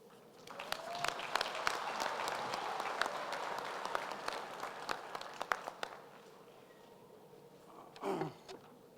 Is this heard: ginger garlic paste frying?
no